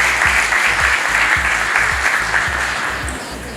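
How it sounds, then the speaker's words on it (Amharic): Warm, steady applause fills a graduation ceremony hall in Atlanta, Georgia: dense, close clapping from a crowd that holds strong throughout and fades slightly near the end. "ሞቅ ያለ ጭብጨባ።"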